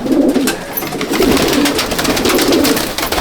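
Andhra and Malwai pigeons in a large loft at Subhasgram coo loudly and close, with repeated throaty rolling calls overlapping in an unbroken chorus.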